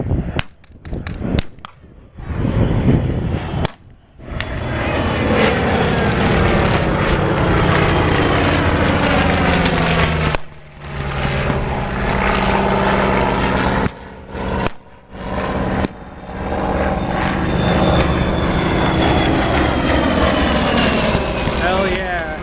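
Douglas Skyraider aircraft with 2,700-horsepower radial piston engines roar loudly and steadily as they pass close by at a Vietnam War re-enactment, the droning pitch shifting, with brief gaps and people talking underneath.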